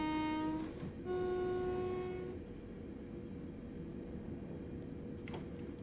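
A London Overground train in Train Simulator 2018 sounds two short horn blasts as it rolls into a station, then a steady rumble of the moving train carries on with a faint clank near the end.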